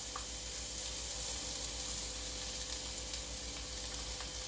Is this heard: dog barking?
no